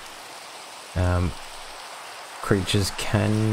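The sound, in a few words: rain in a video game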